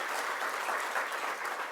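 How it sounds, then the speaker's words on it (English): A brief, loud burst of dense audience clapping at a county event about affordable housing at 950 Broadway, steady throughout with no speech over it. "Let's give him a round of applause."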